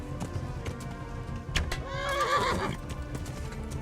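A horse in the medieval video game Kingdom Come: Deliverance gives a loud, drawn-out whinny in the middle of the scene, with hoof clops and other game sounds around it.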